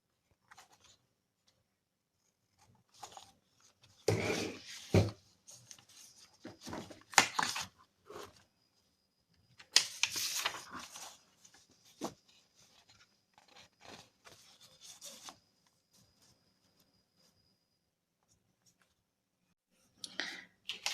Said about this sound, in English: So I went ahead and cut the pocket and scored the edges and tapered the edges